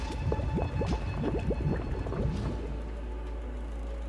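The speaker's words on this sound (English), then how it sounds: "Sound of something boiling." Close, busy bubbling and gurgling of something boiling in the video game Nikke, with rapid popping bursts that thin out into a steady low rumble.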